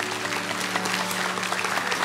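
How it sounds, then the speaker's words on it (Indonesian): A church congregation applauds during a sermon, dense steady clapping from many hands filling the room, with a faint sustained tone underneath. "kasih tepuk tangan untuk Tuhan"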